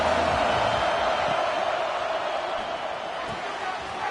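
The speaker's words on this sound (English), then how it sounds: "This crowd ready to make its presence known." Crowd at a BYU college football game makes a steady, dense roar throughout, loud and unbroken, with a voice faintly present beneath it.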